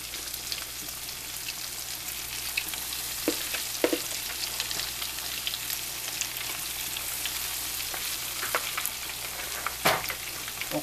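Salmon croquettes shallow-fry in a modest amount of oil with a steady, close sizzle, broken by scattered sharp pops and crackles; no one speaks.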